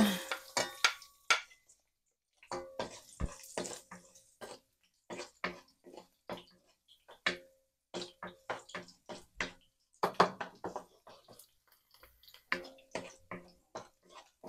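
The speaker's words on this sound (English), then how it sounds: "I will stir fry the garlic" Garlic stir-fried in a pan after frying a pork chop: a steady run of sharp metallic scrapes and clatters from stirring, close and moderately loud, with brief pauses between bursts.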